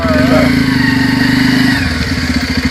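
A motorcycle engine idles steadily nearby with a rapid, even low putter, loud and continuous, while people talk over it.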